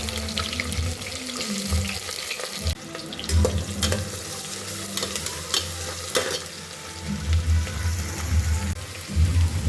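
Chopped onions and green chillies frying in a pan for chicken biryani, a steady close sizzle with stirring scrapes and occasional clinks, no one talking.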